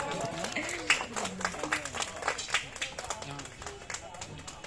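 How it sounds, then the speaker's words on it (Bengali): Guests at a small home cultural evening with children applaud prize winners, giving scattered uneven claps that rise and fall while people talk over them. "হাততালি হোক।"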